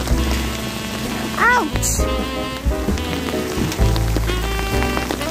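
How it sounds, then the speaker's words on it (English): Hailstones pelt down in a dark, stormy winter outdoors in Ireland, a dense steady rattle like heavy rain on surfaces, continuous throughout with a person's brief exclamation and background sounds over it. "Bro, it's raining ice."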